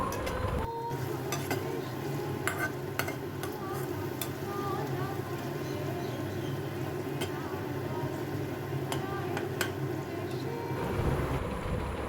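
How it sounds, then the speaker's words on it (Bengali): Food sizzles and is stirred in hot oil in a home kitchen while malai chicken is being made, a steady close frying hiss with scattered clicks of a utensil against the pan. "এটা এখন ভালো করে তেলে নেড়ে চেড়ে অল্প সাঁতলে নেব।"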